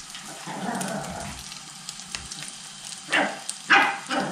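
Rice fritters with zucchini frying in a pan of oil give off a soft, steady sizzle, broken by a few louder spattering pops near the end.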